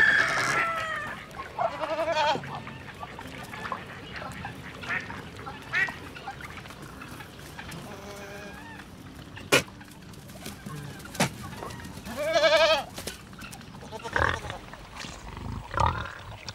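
A billy goat on a farm gives repeated bleats in short bursts, with other farm animals calling around it in a busy barnyard scene.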